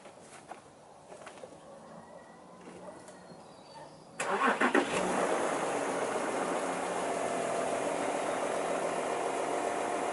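Cold start of a 2015 Audi Q7 TDI turbo diesel: a few faint clicks and quiet shuffling, then the starter catches and the engine bursts to life, settling into a steady, rattly diesel idle.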